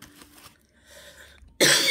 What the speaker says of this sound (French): Oh là là, qu'est-ce que je peux tousser?